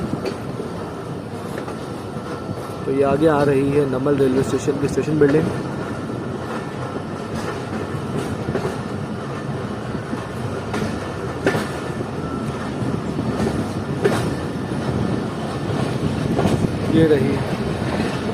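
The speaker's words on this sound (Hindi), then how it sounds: "ट्रेन डिपार्ट कर रही है नवल रेलवे स्टेशन से" A Jand passenger train pulls out of Nawal railway station with a steady rumble and wheel clatter, and someone talks over the noise throughout.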